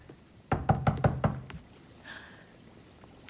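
Five sharp knocks on a door in the Spider-Man 2 video game, evenly spaced and close, followed by a faint short chime-like tone and quiet background.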